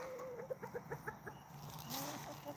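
Mark the rooster, attacking, gives a quick run of sharp, rhythmic clucks, then a drawn-out rising call near the end, close and fairly faint.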